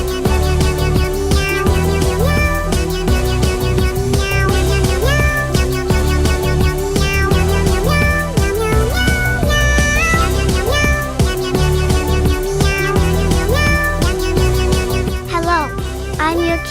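A virtual cat in a slime video game meows repeatedly in a cartoonish voice over bright, continuous game music, loud and close.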